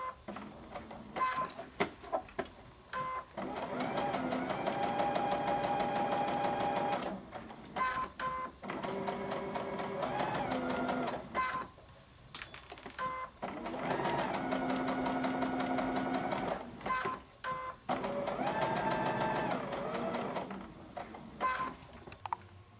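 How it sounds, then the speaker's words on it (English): A sewing machine stitches fabric in long, steady mechanical runs broken by short pauses, its rapid needle rhythm close and clear. "Then you just keep on sewing, sewing, sewing until you have how many ever inches you would need"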